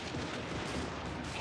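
Artillery guns fire in the Warhammer 3 fantasy battle game, a dense continuous roll of booming blasts and rumble filling the short stretch with no distinct gaps.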